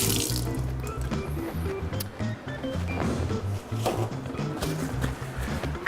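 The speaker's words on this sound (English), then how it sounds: "I'm gonna rinse my hands off real quick" Tap running as hands are rinsed under it in a kitchen sink, a steady splashing water flow with uneven spatter from the hands, close and moderately quiet.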